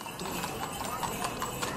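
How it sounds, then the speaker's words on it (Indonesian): A horse-hoof sound effect plays in a spoken ghost story: quiet, evenly paced clip-clops repeat one after another throughout, soft and somewhat distant. "Pertama itu kedengaran kayak suara kuda"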